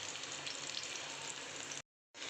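Round slices of bitter gourd shallow fry in a pan, giving a soft, steady sizzling hiss heard close up and alone, with a short silent gap near the end.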